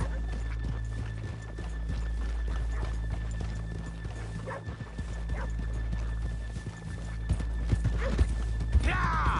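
Steady clip-clop of horse hooves at a walking pace in the video game Red Dead Redemption 2, with a short whinny, over a continuous low hum and ambient background noise.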